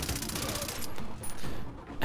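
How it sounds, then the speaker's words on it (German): Rifle shots in the video game Far Cry 3, a dense burst of loud gunfire cracks with a final sharp blast near the end, set against continuous game noise. "Ich habe wieder durch den Kopf geschossen"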